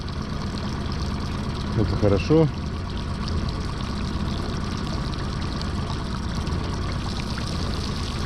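A boat motor idles steadily throughout, a low continuous mechanical rumble, with a brief spoken phrase near the start.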